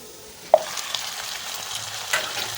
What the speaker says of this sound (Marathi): हे बघा, मटणाला आपल्याला असं तेलामध्ये छान परतून घ्यायचं आहे.